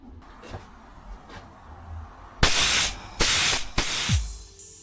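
A spray gun applies Jungle Green 2K car paint thinned 1:1 on a Vauxhall Vectra GSI's front wing: three short loud hissing bursts in a row after some quiet shuffling.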